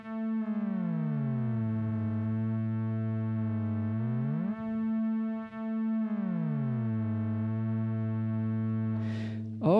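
Two oscillators on a Behringer 2600 synthesizer, modulated with a mod strip, give a bright buzzy tone that glides down about an octave, holds, slides back up and drops again. The sweeping pitch bends are loud and clean, with no talking.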